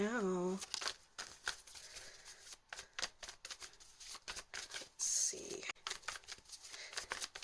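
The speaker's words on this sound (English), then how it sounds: "Didn't shuffle that well enough." Tarot cards shuffled by hand in a fortune-telling reading, giving repeated crisp riffling and slapping bursts across the clip; a voice speaks briefly at the start.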